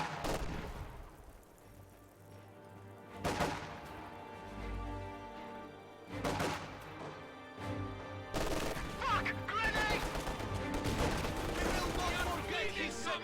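Soviet PTRS anti-tank rifle shots and other gunfire ring out in a strategy video game battle: loud separate blasts and crashes, then denser overlapping fire and explosions, with a commentator talking over it.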